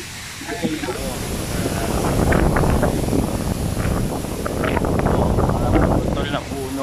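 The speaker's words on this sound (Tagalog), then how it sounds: "Lakas ng hangin na naman." Strong typhoon wind roars steadily across the microphone during Typhoon Ulysses, a continuous buffeting rush with gusts swelling in the middle, while a person talks over it.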